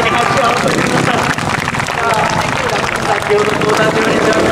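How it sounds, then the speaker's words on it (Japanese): Audience at a Honda motorcycle trial demo show clapping together in a steady, dense burst of applause that runs throughout, with an announcer's voice over it. "先に拍手を合わせてください"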